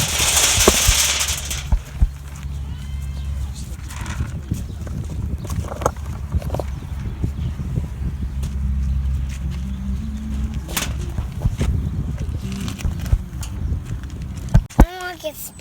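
Horse hooves clip-clop irregularly on hard ground nearby at a bison ranch in Cheyenne, Wyoming, with people chatting in the background and occasional sharp bangs.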